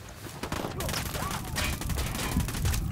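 Gunfire in Ghost Recon Wildlands, a dense rattling fusillade of rapid shots running straight through at close range, with scattered clatter and crackle mixed in.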